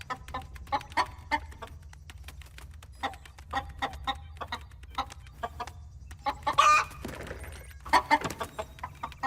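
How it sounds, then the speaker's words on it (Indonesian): Chickens cluck in short, repeated bursts, fairly close, with a louder flurry of squawks partway through over a low steady background hum. "Kemana kau ayam kecil?"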